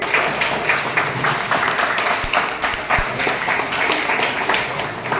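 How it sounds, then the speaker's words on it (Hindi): Applause for a team being called up at a school event in a packed room, steady and dense for several seconds, with a few louder nearby claps standing out from the crowd. "तालियां बजाओ।"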